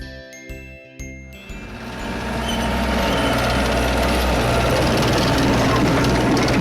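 A toy tractor pulling a sugar beet harvester starts with a few light clicks and tinkles, then a steady, dense mechanical rumble and whir builds and holds loud and close, with no voices.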